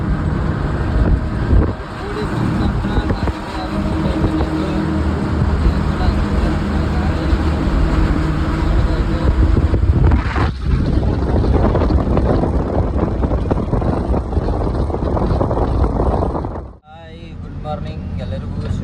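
A vehicle on an overnight road journey from Bengaluru to Nippani gives a loud, continuous roar of engine and road noise with some wind. The roar dips sharply near the end and then resumes more quietly.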